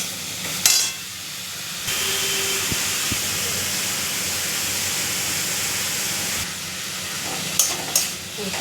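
Snake gourd frying in a pan with salt and turmeric, giving a steady broadband sizzle that runs throughout, with a few brief stirring scrapes and clatters near the start and end.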